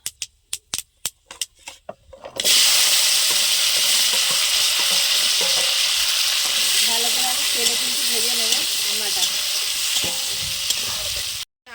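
Hog plums hit hot oil seasoned with panch phoron, setting off a loud, steady sizzle and hiss after a few sharp knocks and clatters at the start, with the frying running on without a break to the end.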